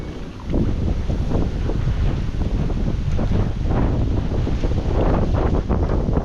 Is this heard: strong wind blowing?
yes